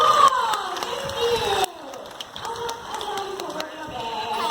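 Bird park show audience clapping and cheering, with scattered hand claps and crowd noise, children's voices, and bright whistling tones over the clapping, fairly close and lively.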